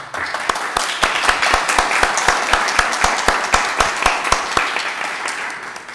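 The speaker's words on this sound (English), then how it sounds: "I will just ask you a round of applause for all our speakers." A conference audience applauds its speakers steadily, many hands clapping at once in a dense, sustained patter that stays fairly loud throughout, with no voices over it.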